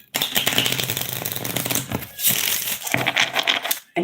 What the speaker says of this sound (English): I'm being guided to do a little ruffle shuffle